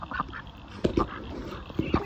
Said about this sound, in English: Are there more ducks here somewhere?